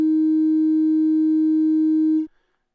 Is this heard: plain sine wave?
yes